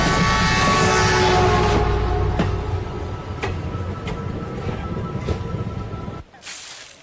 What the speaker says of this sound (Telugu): ఈ ట్రైన్ ఎక్కడికి వెళ్తుంది?